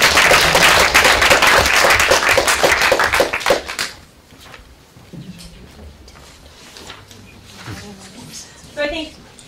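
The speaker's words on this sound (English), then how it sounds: "Round of applause for our volunteer." Audience applause at an academic talk, dense clapping from a crowd for about four seconds, then fading into quieter room noise with some talk and brief sounds.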